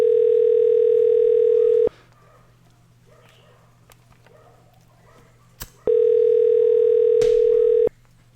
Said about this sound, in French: on va laisser tourner un peu l'appel